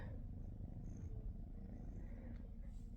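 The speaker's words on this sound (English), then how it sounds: "And they both purr like little motors." Two house cats purring close by, a soft steady low rumble with a faint rhythmic pulse, quiet and continuous with no talking.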